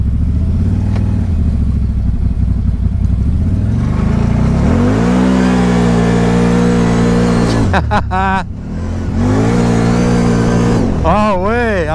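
A CFMOTO ZFORCE Z 950 side-by-side (2021) drives in two-wheel drive, its engine droning steadily and loud before revving up and down in rising and falling surges, with a brief dip as the throttle lifts.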